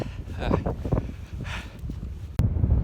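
Cold wind buffets the microphone in an Icelandic geothermal area in March at about 4 degrees, a steady low rumbling gust with rustling bursts throughout, growing louder near the end while voices speak over it.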